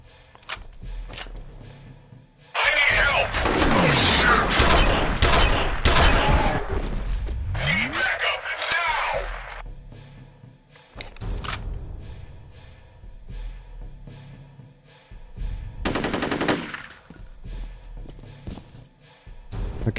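Gunfire and combat bursts in the first-person shooter F.E.A.R., a loud dense volley of shots and thuds for several seconds, then a quieter lull and a second shorter burst near the end.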